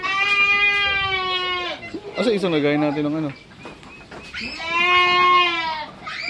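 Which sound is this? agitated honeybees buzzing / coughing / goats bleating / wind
goats bleating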